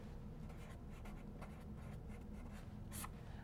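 A math equation being written out, the pen or marker making soft, quiet scratching strokes in short bursts, with a brief sharper scrape near the end and no talk.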